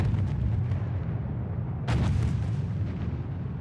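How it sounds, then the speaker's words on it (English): Heavy mortar fire aimed at a tank in the Battlefield 1 video game, heard as a continuous low rumbling barrage with a sharp explosive burst near the middle, loud and close, no voices. "Fluff going to get the mortar out and ready, trying to get a couple shots on that tank"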